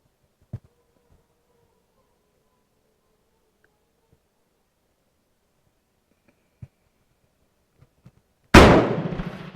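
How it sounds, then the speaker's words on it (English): A Mauser Colombian Model 1950 rifle fired at a target: a single sharp, loud shot with a ringing decay, after a long near-silent stretch broken only by a few faint clicks. "I'm going to shoot the target on the right."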